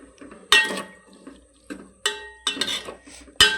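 A metal spoon scrapes and clatters in a pan of chayote curry with turmeric and salt, in several distinct bursts of stirring with short quiet gaps between them.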